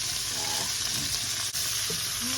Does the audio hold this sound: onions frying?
yes